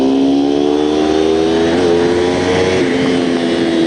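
A Kawasaki Ninja 250 motorcycle engine revs loudly at high RPM, a sustained buzzing whine that shifts pitch slightly as the throttle changes, close and alone.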